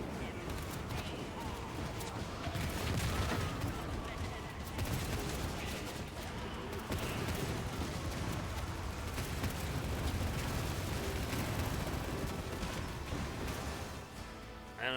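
Dense video game gunfire, a sustained barrage of overlapping shots and rumbling blasts during a battle, loud and continuous with a voice speaking over it.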